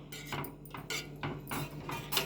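A spoon clinks and scrapes against a bowl while stirring a milk mixture, four or five short separate metallic strokes, close and fairly quiet.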